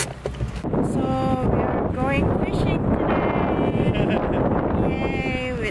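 Wind buffets the microphone in a constant rumbling roar, with a few faint voices and bellowing animal calls rising briefly above it.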